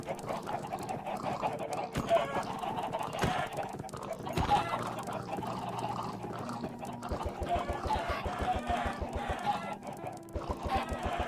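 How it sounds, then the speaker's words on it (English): A flock of chickens in the Minecraft video game clucks steadily over a soft game soundtrack, overlapping clucks repeating at a moderate volume throughout. "We have so many chickens."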